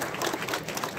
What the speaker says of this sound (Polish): Gromkie brawa dla wszystkich Was.